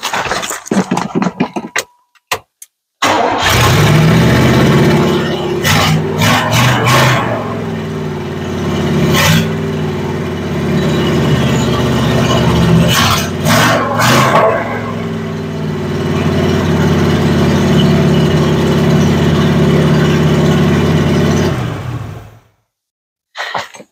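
A 1981 Pontiac Bonneville Safari station wagon engine cranks, fires and settles into a loud, steady idle, its exhaust cut off just behind the manifold, giving a raw, throaty drone with occasional revs before shutting off.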